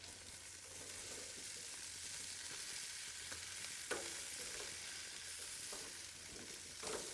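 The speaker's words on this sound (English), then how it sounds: "I'm going to dump those in there, and now I'm going to give it a stir." Chopped onion and orange and red peppers sizzle quietly in a wok. Occasional soft stirring scrapes rise over the continuous hiss, with no talking.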